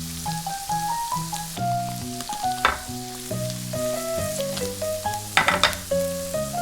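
Minced garlic and chili pepper stir-fry in a pan beside pushed-aside tofu, a soft sizzling hiss running under prominent melodic background music, with a couple of brief crackling bursts.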